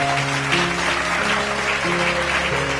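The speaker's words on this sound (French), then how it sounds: "acclame pour Jésus" A church congregation applauding with dense, continuous clapping, loud and close, with sustained musical tones from instruments playing underneath throughout.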